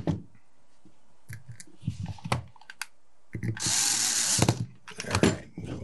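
A power screwdriver with its clutch slip set drives screws during a valve upgrade install on a T4E .50 caliber TR50 marker, giving several short whirring bursts separated by quiet handling clicks, then one longer whine.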